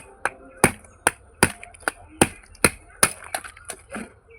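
Raw oyster shells crack open in about a dozen sharp, close snaps at a steady pace, each a crisp break separated by short quiet gaps.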